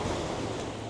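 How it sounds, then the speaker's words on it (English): Choppy sea waves and strong wind at a secluded, steep beach in the early morning, a dense wash of surf and wind noise filling the short stretch, close and steady. "Choppy sea today, it's windy."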